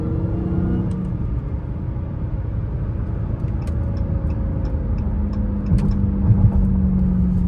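A Dodge Hellcat widebody driving at high speed on the road, its deep, steady engine rumble and road noise filling the cabin without pause and swelling slightly near the end.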